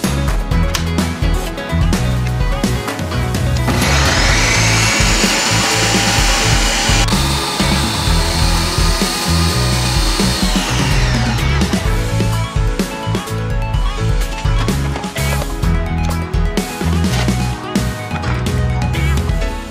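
Ninja Creami ice cream maker running a light ice cream cycle on a high-protein mix: a loud continuous motor whir with a shrill rising whine in the middle, steady from start to finish.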